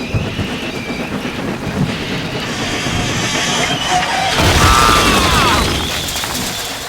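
A thunderstorm with rain makes a loud, steady wash of noise, with low rumbling building through the middle and easing toward the end.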